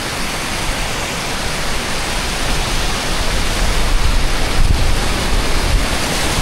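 Floodwater rushes along the road to Baguio after two weeks of rain, a loud, unbroken broadband roar mixed with wind buffeting, and no voices.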